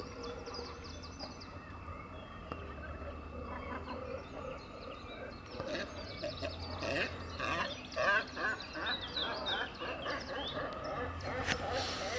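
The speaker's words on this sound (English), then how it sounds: "Let's follow this tufted duck for a bit." Scattered tufted duck quacks and calls across a busy waterside soundscape, with bird chatter and low background rumble throughout.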